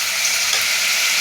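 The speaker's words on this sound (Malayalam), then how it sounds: "ഇത് ഒഴിച്ചിട്ട് ഒന്ന് ഇളക്കി വിടുക." Ginger and cardamom paste hitting a hot pan and being stirred makes a brief, loud, dense sizzle up close.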